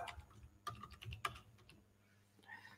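Lowercase Latin letters are typed on a computer keyboard as a run of irregular, fairly close keystroke clicks with short pauses between them, in a quiet room with no talking.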